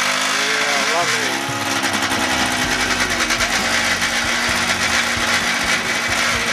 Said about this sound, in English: The horrible rattle you can hear is the muffler sort of loose tackle.